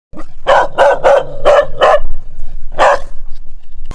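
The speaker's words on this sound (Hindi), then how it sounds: "हमारे स्नीफर डॉग की भौंकने की आवाज़ें अभी भी हमें जंगलों के अंदर से सुनाई दे रही थी" A sniffer dog barks in a forest in a horror-story scene: about six loud, sharp barks, five in a quick run and one after a short pause, close by and with no voices.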